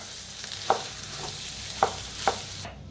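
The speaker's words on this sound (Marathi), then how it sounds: "बटाट्याला एकदा मिक्स करून घेऊया." Potatoes for a vada pav filling are stirred in a hot frying pan: a soft continuous sizzle with three or four distinct scraping strokes of a spoon against the pan, and no talking.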